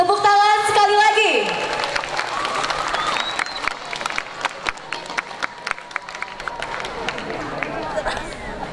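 A short spoken voice gives way to loud, steady crowd applause for contest winners at a school Maulid Nabi celebration, many hands clapping close by and fading slightly over several seconds.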